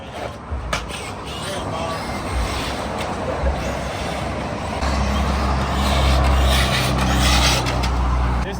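Modified Traxxas Mudboss RC truck, a Slash conversion swapped to 4S power, drives under throttle with a steady, close, buzzing motor whine that grows louder over the second half, while voices talk over it.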